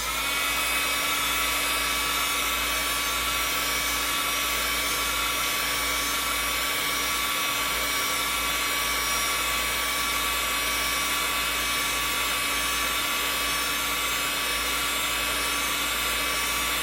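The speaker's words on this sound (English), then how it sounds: "I hold the heat gun right at the top of the distance-wise" A heat gun blows steadily over a shrink plastic bracelet on a metal glide pin, making a loud, close, unbroken whooshing hum with a faint whine that lasts throughout.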